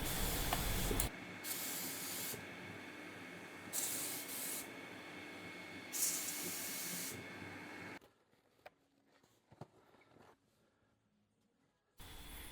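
Spray gun applying Clean Armor Wood 700 Satin finish, a steady broadband hiss in several long bursts with short pauses between, ending in near-quiet with faint handling noises and a final burst.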